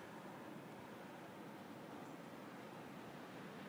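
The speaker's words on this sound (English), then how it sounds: "The ocean." Ocean surf rolling in at a shoreline in the morning, heard as a steady, continuous broadband wash with no distinct breaks, fairly faint and even throughout, no voices.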